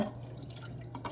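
Water drips and splashes close by while things are washed with soap, a busy irregular patter of drops over a running-water wash.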